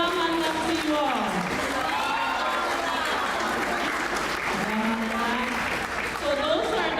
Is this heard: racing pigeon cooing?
no